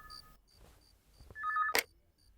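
A telephone rings in a Hindi-dubbed film scene: after a stretch of faint ambience with soft tones, one loud, close ring bursts out briefly near the end, with no talk over it.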